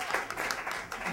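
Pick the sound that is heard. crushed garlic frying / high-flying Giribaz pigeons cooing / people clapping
people clapping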